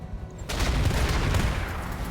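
RogueTech mech combat: after a quiet moment, a heavy burst of weapons fire and an ammunition explosion erupts, loud and rumbling, fading slowly.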